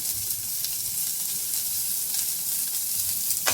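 Chopped onion and garlic fry in oil for a curd curry, giving a continuous, even sizzling hiss that holds for several seconds without any voices.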